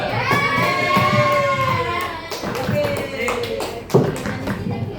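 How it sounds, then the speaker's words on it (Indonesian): A classroom of children claps for a pupil named Nadia, a brief burst of scattered applause mixed with an adult's voice and children's chatter throughout. "Oke, berikan aplaus untuk Mbak Nadia."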